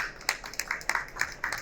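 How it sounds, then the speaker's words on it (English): A small panel-discussion audience gives a brief, sparse round of clapping for the panelists, the claps irregular and fairly quiet, heard on their own without talk. "give a quick round of applause to our fantastic panelists"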